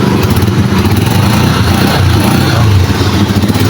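A Skygo Wizard125 motorcycle engine idles close by, a loud steady low rumble with a fast regular pulsing throb throughout.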